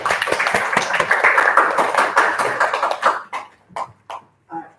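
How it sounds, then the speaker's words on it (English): A small audience at a Toastmasters club meeting in a hotel claps, a nearby patter of individual hand claps that thins out into a few scattered last claps before stopping. "Ladies and gentlemen, please give big applause to Pak Thomas and Rotary."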